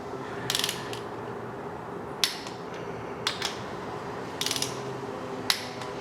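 A wrench ratchets bolts down to 30 foot-pounds on a 5.3L LS LM7 V8 engine during a rebuild: short bursts of clicking, loud and close, spaced a second or so apart over a low steady background hum.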